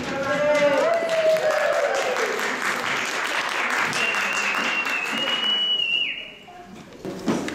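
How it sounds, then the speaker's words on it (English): Conference audience clapping for a speaker at a women's empowerment event, a sustained round of applause with a whistle-like tone rising through it, then tapering off into quieter room noise at the end. "Should we give her a round of applause?"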